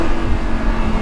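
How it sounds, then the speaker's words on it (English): A loud, rumbling Lamborghini Huracan engine roar fills the clip, steady and close, like a sports car exhaust held at high revs. "Another one of my favorite parts about this car is the exhaust."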